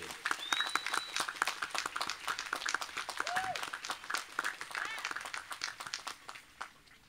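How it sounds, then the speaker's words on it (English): Applause rises for graduates at a spring commencement ceremony, many hands clapping steadily at a moderate distance in a large venue, with a voice briefly heard underneath. "Let's give a warm round of applause to our graduates from Divinity."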